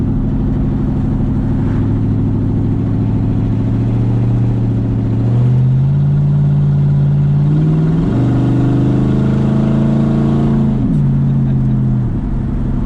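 An LS-swapped Jaguar XJ-S accelerates up a hill, heard from inside the car. The V8 drones loudly and rises in pitch through several gear changes, with a faint voice underneath.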